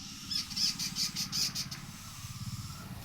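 A small bird squawks repeatedly nearby, a run of harsh, evenly spaced calls followed by quicker, lower chattering notes, fairly faint against a quiet outdoor background.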